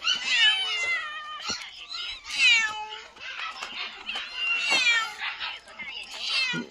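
Several stray cats meow eagerly while waiting to be fed, repeated close, rising and falling cries overlapping one another, with people talking faintly alongside.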